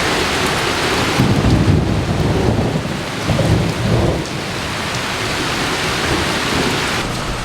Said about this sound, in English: I think it's raining. Just a wee bit.